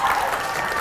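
An audience at an informational meeting breaks into applause, a brief burst of moderately loud clapping from a small indoor crowd.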